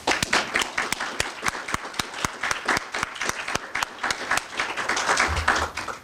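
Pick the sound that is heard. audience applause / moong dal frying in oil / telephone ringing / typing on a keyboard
audience applause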